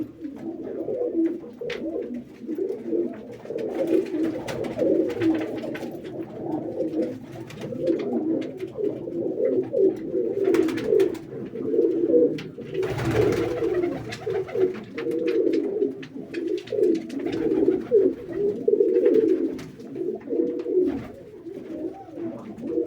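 Many pigeons, including nesting pairs with squabs, keep up a dense, close chorus of rolling coos in a loft, steady throughout with a brief burst of rustling or wing noise around the middle.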